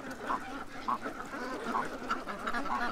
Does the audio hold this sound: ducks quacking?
yes